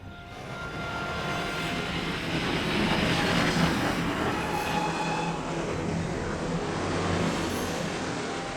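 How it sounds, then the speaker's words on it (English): A train rolls steadily along railway tracks, a continuous loud rumble with faint metallic wheel squeals rising now and then, no voices. "Have the conductor stop the train just ahead."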